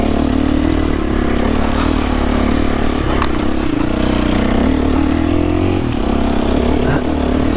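A KTM 350 enduro motorcycle rides hard enduro trails, its engine droning loudly and steadily close by, with clatter and scraping from the terrain throughout.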